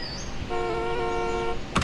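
A car horn in the iPad game City Gangster Crime Car sounds one sustained loud honk for about a second, followed by a brief sharp thump, with no voices.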